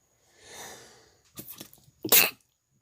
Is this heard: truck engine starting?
no